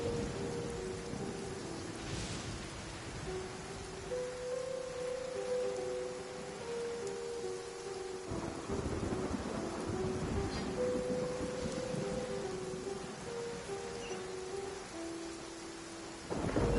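Steady rain falls during a thunderstorm in the video game Genshin Impact, with low rumbling beneath and a soft repeating melodic tone over the downpour, continuous throughout.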